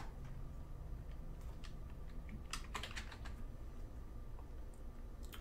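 Keystrokes on a computer keyboard typing an app name, a quiet scattered run of clicks that bunches into a quick burst midway, under a low steady room hum.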